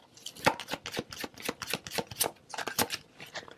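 Tarot cards are shuffled in quick bursts, a rapid series of crisp, close riffling flicks with short pauses between, and no talking.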